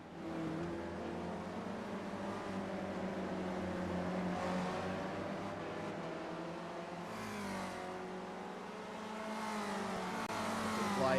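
Race cars in a sim racing video game, engines droning and revving through gear changes, with one car swelling past near the end while other engines hum in the background.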